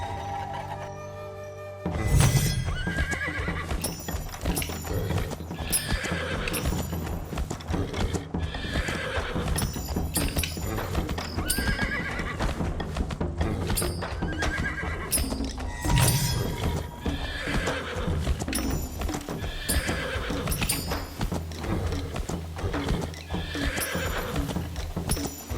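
Horse in the video game Where Winds Meet: rhythmic clip-clop hoofbeats of a gallop run steadily after a brief start, with repeated loud neighs and whinnies breaking through at intervals.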